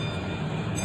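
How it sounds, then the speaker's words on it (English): Sandia Peak aerial tram car gliding along its cable up the mountain at about 19 mph, a steady rumbling mechanical drone with a faint high whine, close and continuous. "It goes at about 19 miles an hour up the mountain with a cable"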